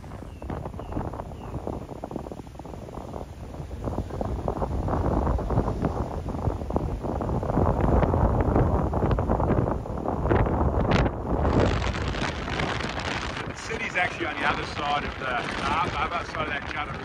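Strong wind buffets the microphone throughout a coastal walk at East Point in Darwin, a steady low roar that swells and gusts loudly, with someone talking over it.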